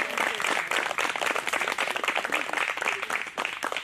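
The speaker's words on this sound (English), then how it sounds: "Will you join me in one more round of applause for all of our contestants?" Audience applause at a Miss Dinuba pageant for the contestants: a dense, steady wash of many hands clapping, loud and sustained throughout with no talk over it.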